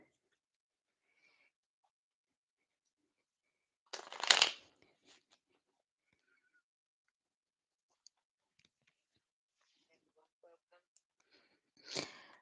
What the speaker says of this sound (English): Let me just give these cards a shuffle.